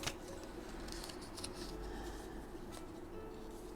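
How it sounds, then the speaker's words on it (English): Scissors snip and trim the top edge of Stamperia craft paper for a mini journal, a few quiet crisp cuts over a faint steady background hum. "Just use my scissors and trim it off."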